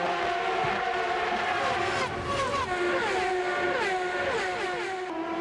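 High-pitched engines of CART open-wheel race cars battling for position on a circuit, several cars screaming past in overlapping waves with rising and falling pitch, loud and continuous.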